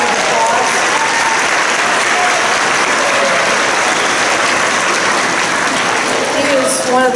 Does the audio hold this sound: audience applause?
yes